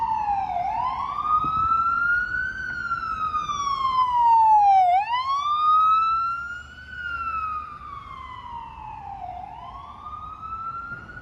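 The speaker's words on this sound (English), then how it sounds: "dodge this ambulance." A wailing ambulance siren rises and falls in long sweeps, loud and nearby on Bleecker Street in Manhattan, fading slightly toward the end.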